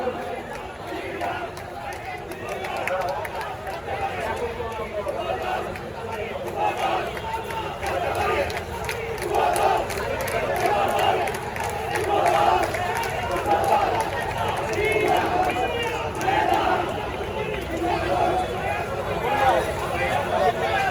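A Dhaka Metropolitan Chhatra Dal procession arrives at a BNP rally on Paltan road, its crowd chanting and shouting in a steady, rhythmic roar that swells in the second half, with general hubbub and babble mixed throughout.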